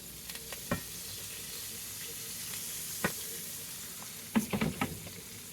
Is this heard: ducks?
no